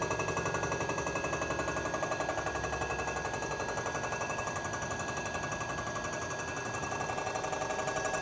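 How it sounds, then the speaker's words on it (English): Milling machine taking a fast-feed skim cut across a Honda D15B7 cylinder head: a continuous, rapid rattling chatter with a dense, even rhythm, moderately distant and steady throughout with no talking. "We've got a fast travel because we're just doing a skim cut."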